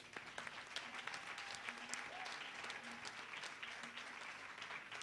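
A crowd applauds for a Jamaican reggae musician, a faint, distant but sustained roar of many clapping hands at an event about musicians in Jamaica, with a few voices faintly mixed in.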